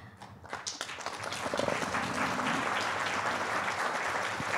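An audience at a Montgomery County film festival award ceremony applauds in a dense, steady wash of clapping that swells after the first second and holds, with no voice over it.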